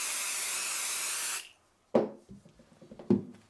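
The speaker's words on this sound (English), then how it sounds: "spray the stabilizer" A can of stabilizer adhesive sprays in a steady loud hiss for about a second and a half, then cuts off, followed by a few handling thumps and rustles.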